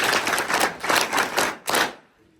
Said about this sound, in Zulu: Siwashayela ihlombe amajaji.